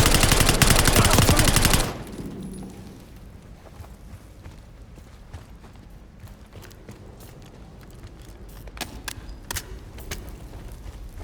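Gunfire in Call of Duty: Black Ops 6 opens with a loud two-second burst of rapid automatic shots, then drops to scattered quieter single shots and mechanical clatter in the background.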